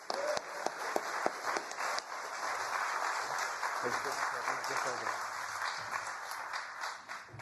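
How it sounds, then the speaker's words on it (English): A room of guests at a U.S. Army anniversary breakfast reception in New York applauds steadily, with a few sharp individual claps at the start and a voice speaking briefly over it. "Let's give him a round of applause."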